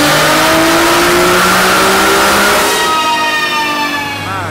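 A 1889 hp Nissan GT-R revving hard on a dyno, its loud rising engine note climbing steadily before dropping away near the end, close and continuous with no talk.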